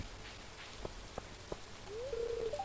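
Steady rain falls throughout, with a few sharp drips and a short whistling tone near the end.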